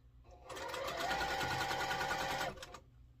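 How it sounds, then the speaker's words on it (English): Sewing machine stitching fabric while piecing a Jacob's ladder quilt block, a steady, close, fast mechanical whirr running for about two seconds before stopping. "I need that sewing machine to take up some of that fabric"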